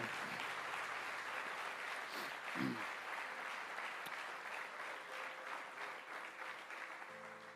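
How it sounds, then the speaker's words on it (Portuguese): Church congregation applauding Jesus during a service, a dense steady round of clapping that fills the room, moderately loud and continuous, fading slightly near the end. "Todos aplaudam a Jesus."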